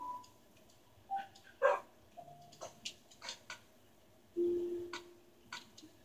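Dogs in Minecraft giving short yips and barks in scattered bursts, with a longer whine-like tone near the end, mixed with clicking game sounds, fairly faint.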